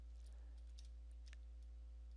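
A few light keystrokes tap on a Lenovo IdeaPad Flex 3 laptop keyboard, faint and sparse clicks over a steady low hum.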